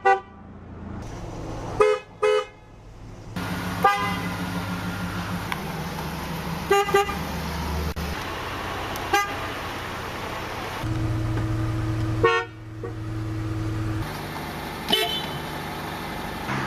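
A Saab car's horn sounds in repeated honks: short double toots, then longer sustained blasts, loud and close with a steady steady background hiss.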